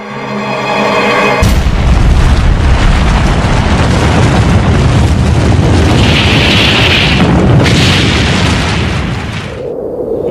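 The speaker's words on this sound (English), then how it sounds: "The first atomic bomb that was dropped here." A massive atomic bomb detonation erupts suddenly as a deep, sustained roaring boom that stays loud and rumbling for about eight seconds, with hissing bursts layered over it, before tapering off.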